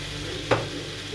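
Food frying in a pan gives a soft, steady sizzle close by, broken by a single short clatter of a utensil midway, with no voices.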